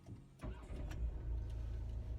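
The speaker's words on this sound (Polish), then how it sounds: "napędzany aksamitnie pracującym czterocylindrowym dieslem" A VW Crafter 4Motion van's four-cylinder diesel engine starts and settles into a steady, low, smooth idle, close by and fairly quiet, with no talking.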